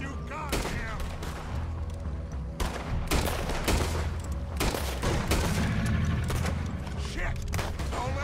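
Heavy gunfire in a Red Dead Redemption 2 shootout, with repeated sharp rifle and pistol shots cracking in quick, irregular bursts at close range under a busy mix of game sound.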